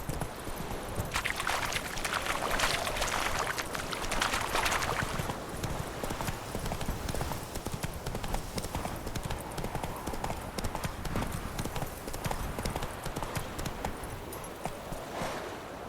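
Horse hooves clip-clopping steadily in The Witcher 3 as the horse Roach moves along, a continuous brisk rhythm of hoofbeats with game ambience, and a voice speaking briefly over it.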